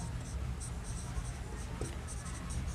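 Steady scratchy strokes of writing during a Class 12 physics lesson on semiconductors, faint and continuous under a teacher's talking.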